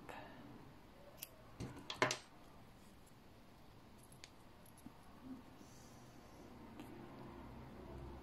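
Scissors snip crochet yarn after a small crocheted flower is finished, leaving a few faint, sharp clicks close together early on, followed by quiet handling noises.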